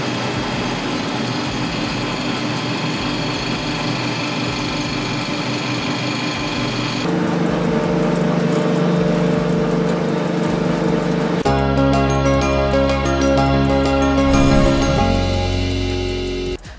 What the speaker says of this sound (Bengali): এই এলিভেটর মোটরটা চালু হবে।